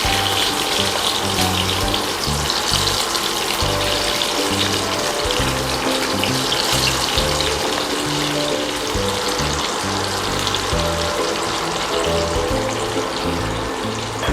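Chopped onions hit hot oil with spices already crackling, for a cauliflower bharta; a loud, steady sizzle and spatter runs without a break, with no talk.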